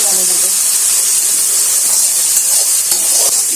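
Garlic paste and spices frying in a pan make a steady, loud sizzling hiss with faint stirring scrapes, continuous throughout and fairly close.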